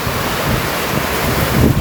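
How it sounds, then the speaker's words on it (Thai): Storm wind roars and waves wash against a small fishing boat at night in heavy rain, a loud, continuous rushing noise with buffeting on the microphone and no talk. "พายุเข้าโอ้ย พายุเข้าเลยทุกคนเอ้ย"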